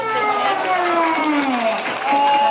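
Crowd applauds steadily to welcome a guest onto a stage, the clapping running under a voice and background music throughout.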